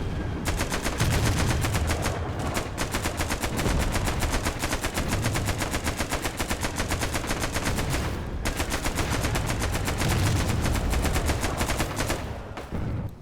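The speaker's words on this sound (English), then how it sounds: "Yet machine gun fire also started once more." Continuous machine gun fire in a Roblox World War 1 battle game, rapid loud bursts rattling steadily for the whole stretch with only brief pauses, dense and close.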